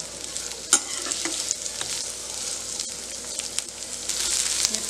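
Onions sautéing on high gas for a loki kofta curry, a dense, bright sizzle running throughout with occasional spoon scrapes and clicks, close and fairly loud, no voices.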